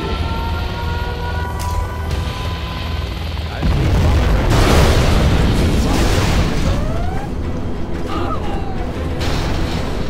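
A nuclear missile launches in the Command & Conquer Generals Zero Hour strategy game: creaking mechanical silo sounds give way to a sudden loud, sustained roaring rush that holds steady to the end, with faint sweeping tones mixed in.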